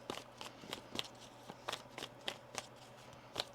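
Tarot cards are shuffled in a soft, quiet, close series of riffling flicks and crisp taps, repeating at a steady pace with no talk.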